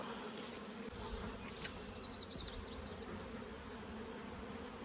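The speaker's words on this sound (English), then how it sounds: "You can see this one now is full of bees." Honeybees fill a hive box, giving a dense, continuous buzzing hum that is close but fairly quiet, with no voices.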